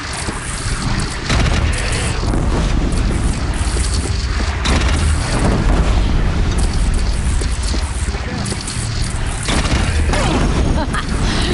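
Cannon fire and battle booms from a bandit clan's single cannon in the video game Horizon Zero Dawn, a loud, dense barrage of heavy blasts and rumbling impacts filling the whole stretch without pause.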